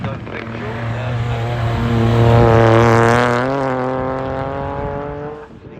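Race car at the Harewood hillclimb, engine note rising loud as it draws near and passes close, then fading away up the course, with a steady tonal growl alone.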